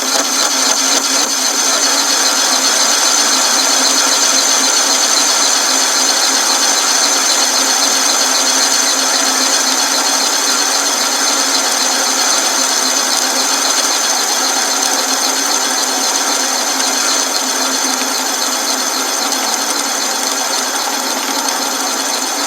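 Homemade metal lathe fitted with a new carriage, cutting metal: a steady, dense high-pitched machining whine with a constant motor hum, loud and unbroken throughout with no talk.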